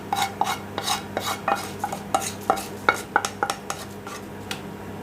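Lemon rice with its tempering is mixed on a plate, producing a rhythmic series of close metal spoon clinks and scrapes against the plate, fairly loud and evenly spaced with no talking.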